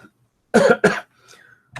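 A dry-throated man coughs twice in quick succession, close and sharp, followed by a softer throat sound and a brief final cough.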